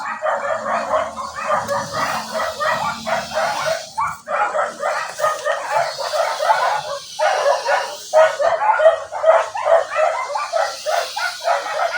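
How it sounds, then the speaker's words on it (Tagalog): Dogs at a neighbour's house barking nonstop in rapid, overlapping volleys, loud and fairly near, with brief pauses between bursts. "tahol na tahol ang nasa sa kapitbahay"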